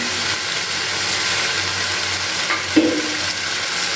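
Spice masala with a little sugar sizzles steadily in a pan while being stirred, a broadband frying hiss throughout with a brief scrape of the spoon near the end.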